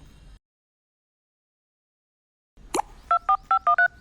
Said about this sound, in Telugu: ఆమె నంబర్ చెప్పాను, నేను నా ఫోన్ నుంచి చేస్తాను.